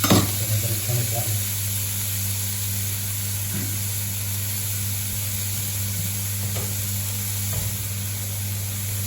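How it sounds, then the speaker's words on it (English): Bacon frying in a pan with its fat rendering out, producing a loud, steady close sizzle throughout, with a few faint clinks. "you want to get the fat to render out of the bacon"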